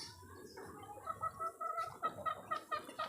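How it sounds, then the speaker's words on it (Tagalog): Free-range mother hens forage in a small backyard, giving soft, repeated clucks and gobbling murmurs in quick bursts, faint and fairly close. "Meron pa tayo mga inahin na gala, nanginginain pa."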